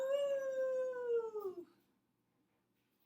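A single voice imitates a coyote during a children's yoga storytime, one long clear howl that slowly falls in pitch and fades after about a second and a half, followed by near silence.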